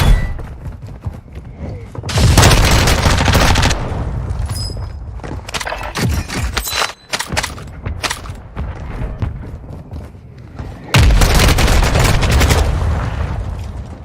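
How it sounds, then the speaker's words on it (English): Mortar strike explosions in the video game Warzone 2: heavy booming blasts land at intervals, with loud bursts near 2 s and 11 s and rattling impacts and thuds in between. "Mortar strike inbound."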